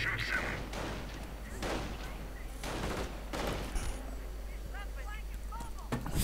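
Muffled bursts of gunfire and thumping explosions from a World War II real-time strategy game battle with riflemen and assault guns, rumbling under a faint steady background hum with scattered distant pops.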